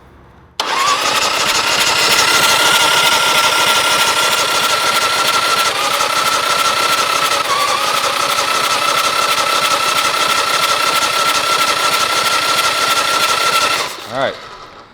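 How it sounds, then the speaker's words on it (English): A newly built chopper motorcycle engine fires up for the first time, running loud and steady for about thirteen seconds at a rough idle before shutting off abruptly near the end. "Alright, so we ran it until we got oil pressure, which is good."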